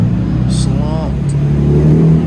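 A Nissan G35 revving at a car meet, a loud nearby engine drone under crowd chatter and voices, with a rising and falling whine.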